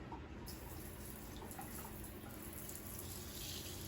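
Lukewarm water poured steadily over houseplant soil to soak it, a continuous close splashing wash with a faint gurgle throughout.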